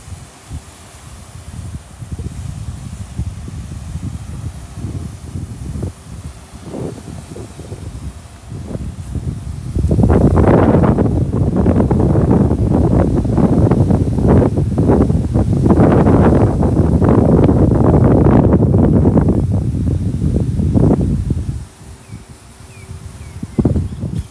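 Strong wind buffets the microphone at Rompin beach in Pahang, a rough, rumbling roar that builds midway and stays loud for about twelve seconds before easing off.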